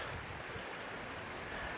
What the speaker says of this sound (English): Isn't that river pretty though?